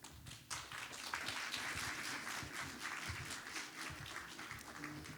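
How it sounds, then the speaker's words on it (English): Audience applause for a panel discussion on the state of democracy in New Jersey, a steady wash of clapping from a room full of people sustained for several seconds at moderate distance. "Please give them all a round of applause one more time"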